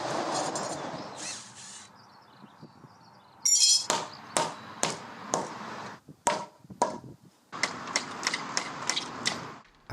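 Sharp banging and knocking as an MDF headboard salvaged from a bin is pulled apart, a string of loud close impacts in uneven bursts with short pauses between them.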